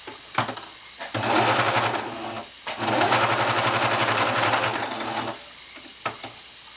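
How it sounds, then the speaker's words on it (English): Sewing machine stitching on a scrap piece of fabric, two loud, steady whirring runs separated by a brief pause, with clicks from the machine at the start and end. "Grab a scrap piece of fabric and then just try sewing on top of it"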